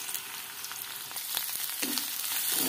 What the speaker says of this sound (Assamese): পিঁয়াজখিনি অকণমান ভাজি ল'ম, বেছিকৈ নাভাজোঁ, কম পৰিমাণে ভাজি ল'ম। তাৰপিছতে এতিয়া গাজৰখিনিও এড কৰি দিম।